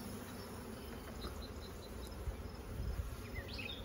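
Honey bees hum around an open, heavily populated hive during a frame inspection, a soft, continuous buzz heard up close with a few louder passes near the end.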